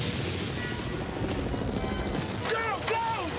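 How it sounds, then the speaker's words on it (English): Helicopter rotor noise from two choppers waiting outside, a steady loud thumping drone filling the scene with dramatic trailer sound effects layered on top. "We got two choppers outside!"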